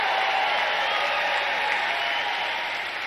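Rally crowd applauding steadily in a dense, sustained wash of clapping that holds at an even level throughout, with no clear voices standing out above it.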